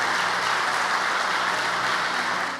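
A church congregation applauding in a steady, dense wash of clapping, sustained and even for the whole stretch, with no voices over it.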